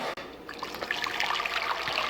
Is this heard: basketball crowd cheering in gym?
no